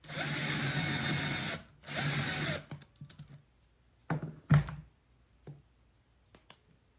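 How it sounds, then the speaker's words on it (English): Two bursts of a power drill whirring, drilling a small hole in a little wooden block, each about a second long, followed by scattered clicks and knocks of handling. "I'm going to drill just a small hole in that little wooden block"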